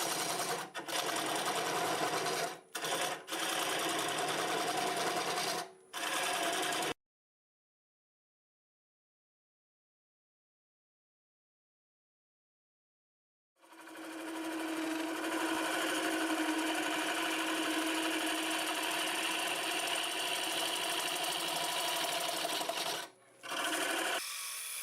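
A wood lathe turns a juniper end-grain bowl at about 650 RPM while a tool cuts, a loud continuous scraping hiss that stops for several seconds and then resumes.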